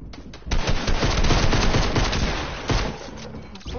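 Shotgun fire rings out in a video game as a dense, rapid volley of loud, close shots, running almost without pause and tapering slightly toward the end.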